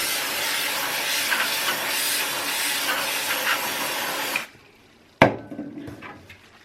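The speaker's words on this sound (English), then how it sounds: "I'm going to clean it up using some parts cleaner and a wire brush." Steady spraying hiss of parts cleaner being applied while a 2-stroke silencer core is scrubbed with a wire brush, continuous for several seconds, then a pause and one sharp knock.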